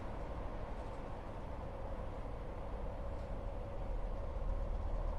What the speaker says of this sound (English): we've got an entirely white high-speed train